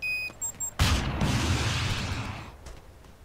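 A Javelin missile fires at an enemy tank in the video game Arma 2 with a sudden loud whoosh and boom after a few short electronic beeps, then a long roar that fades over two seconds.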